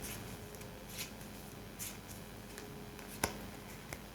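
Lenormand cards are shuffled and drawn by hand, giving quiet, crisp flicks and riffles in scattered bursts with soft ticks between them.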